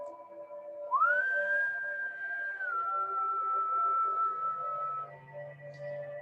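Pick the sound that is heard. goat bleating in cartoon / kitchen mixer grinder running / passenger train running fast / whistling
whistling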